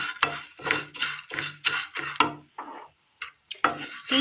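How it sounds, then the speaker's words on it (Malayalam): Fried flattened rice (aval) goes into a pan for a sweet snack with a series of rhythmic, close scraping and stirring strokes against the metal. A brief quiet gap comes before the strokes resume. "ഇനി ഇതിലേക്ക് വറുത്തെടുത്ത അവില് കൂടി ഇട്ട് കൊടുക്കാം"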